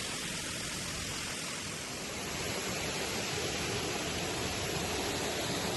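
Steady, loud rushing roar of the Curug Cibereum waterfall on a forest trek, continuous broadband water noise with no voices or pauses.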